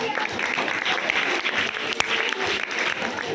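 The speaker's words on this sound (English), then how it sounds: "Give a round of applause." An audience at a public speaking seminar for school students claps steadily and fairly loudly for a few seconds, a dense continuous patter with a voice briefly audible underneath.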